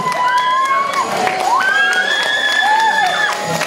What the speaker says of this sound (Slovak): Veľký potlesk, celá škola, samozrejme rodičia.